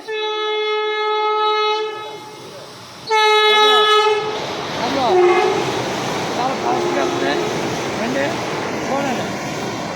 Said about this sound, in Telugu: దిగండి బండి వస్తుంది చూడండి అది వేగం వస్తుంది